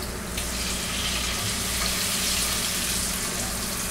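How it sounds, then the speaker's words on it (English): Dry white wine simmering and reducing in a pan with leftover clams, a steady close bubbling sizzle that holds evenly throughout with no talk. "I'm going to let that simmer until it reduces by about half"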